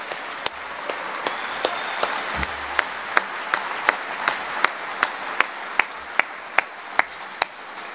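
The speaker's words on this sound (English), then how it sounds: "One more round of applause" Applause for the fiscal year 2023 NETC Sailor of the Year finalists at a Naval Education and Training Command ceremony, steady broadband clapping from a crowd running throughout, punctuated by sharp camera-shutter-like clicks at regular intervals.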